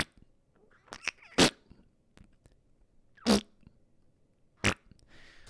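A voice imitates a fart for a flying bat enemy game, giving three separate short bursts spaced a second or two apart, each broad and breathy, with quiet pauses between.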